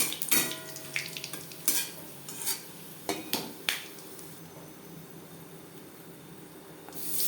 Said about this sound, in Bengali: মাছ ভেজে নেওয়া কড়াইতে আবারও তেল দিয়েছি দিয়ে দিলাম পাঁচ ফোড়ন তেজপাতা